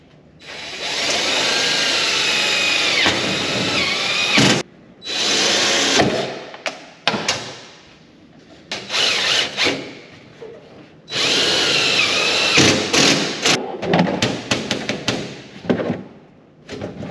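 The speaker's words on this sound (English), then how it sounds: "We're gonna put a self-tapper on both sides of these" Power drill driving self-tapping screws into a vehicle body during body mounting, loud whirring bursts of varying length with short pauses and a few thumps between them, close by with no talk.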